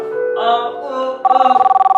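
A mobile phone rings loudly and close, with a sustained tonal ringtone that shifts into a rapid pulsing trill partway through.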